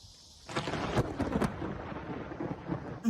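Thunder from a close lightning strike rumbles and cracks loudly, a sudden rolling boom that swells and lingers for a few seconds with sharp snaps on top.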